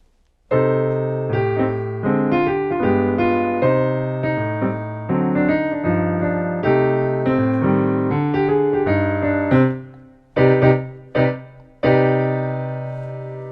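Piano chords ring out in sustained harmony, a rich dissonant minor chord with a major seventh struck and held, then several separate detached chord stabs near the end.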